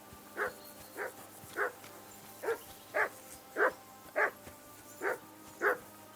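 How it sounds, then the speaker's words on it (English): Dog barking in Kingdom Come: Deliverance 2, nine sharp, evenly spaced barks of moderate loudness over a quiet ambient bed, with no talking. "That dog's really barking."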